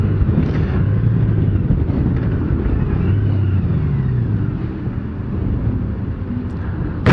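A 2018 Honda Gold Wing motorcycle rides along with a steady, smooth low engine drone blended with wind and road rumble, continuous and close throughout.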